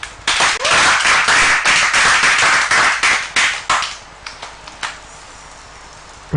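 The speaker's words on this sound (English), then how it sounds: "Chefs applauding." A small group of chefs applauds loudly with dense, rapid clapping that thins out into a few scattered claps before fading to near quiet.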